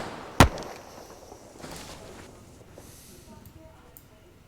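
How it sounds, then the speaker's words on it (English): A single sharp, loud gunshot from an ArmA 3 platoon training attack cracks out near the start, followed by fainter distant pops and a lingering tail. Voices talk quietly in the background. "Oh, he's shooting behind everyone."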